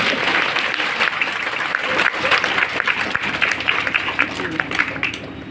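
Audience applause at a Hindi religious discourse, dense steady clapping from a crowd lasting throughout, fairly loud and close, with no clear talk over it.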